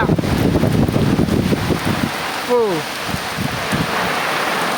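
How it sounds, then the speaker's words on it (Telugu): Heavy rain and gusting wind roar steadily over an orchard, strongest at the start, with a brief chirping call rising above the downpour midway. "ఇంత మాత్రం వాన తోటలలో"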